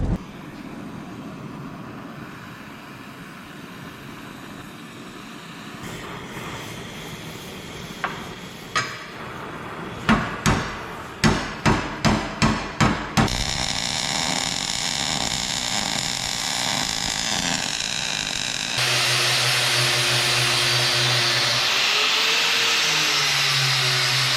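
Power tool noise with a run of sharp, rhythmic bursts as a drill bites through metal, set against a steady mechanical whine and hum.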